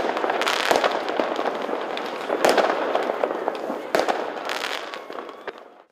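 Fireworks and firecrackers launched at a New Year celebration crackle and pop densely and continuously, with sharper bangs standing out among the rapid bursts before fading at the end.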